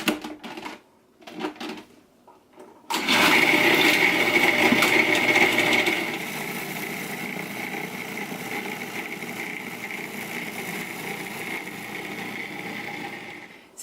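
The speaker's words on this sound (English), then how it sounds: "So let's give it another blend." Blender mixing chocolate coconut cookie dough: a few short pulses first, then a loud, steady high-pitched whirring motor for several seconds that drops to a lower, strained hum as the thick dough slows the blades.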